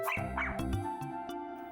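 A small brown puppy in an animated children's story barks in short yips, several quick close barks over a backing of music.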